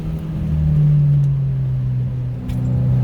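A 2022 Subaru WRX engine pulls in second gear, heard from inside the cabin as a loud, steady low drone that dips briefly and then rises again.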